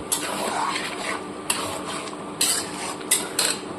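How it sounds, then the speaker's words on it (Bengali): A spoon stirs and scrapes spice masala in a pan for katla fish kalia, with several sharp metallic clinks over a low, continuous sizzle. "এবার এটাকে খুব সুন্দরভাবে কষিয়ে নেব।"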